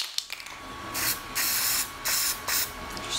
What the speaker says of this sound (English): So spray a little into your cap.